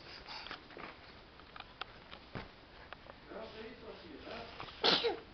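A young child sneezes once, sharp and close, near the end of a stretch of quiet indoor play with soft background sounds.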